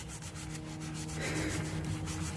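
Close, steady abrasive rubbing as rusty exhaust clamps on a Lexus RX 350 are sanded, a continuous scratchy scrub that grows slightly louder and coarser partway through, with no talk.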